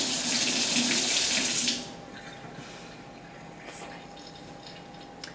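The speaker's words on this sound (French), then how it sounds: "Je vais rincer mon fouet." A kitchen tap runs loudly and close while a whisk is rinsed under it, the steady water flow cutting off after about two seconds and leaving faint drips and a quiet room.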